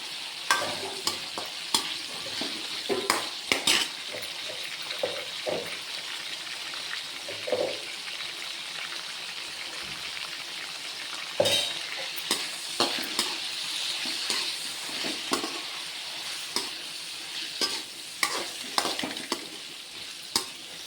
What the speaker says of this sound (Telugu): ఫ్రై చేస్తున్నాను